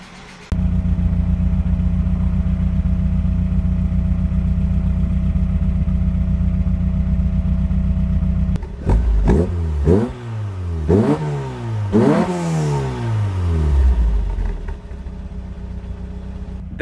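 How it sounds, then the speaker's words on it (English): A Mk1 Volkswagen Golf engine with a new stainless exhaust idles steadily with a low rumble while still warming up, then is revved several times in sharp rising bursts that drop back between each. "I am curious to give it some revs"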